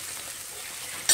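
Fenugreek leaves fry in a pan for a country chicken curry, giving a steady, soft hiss of sizzling with a brief louder crackle at the very end, close and without talk.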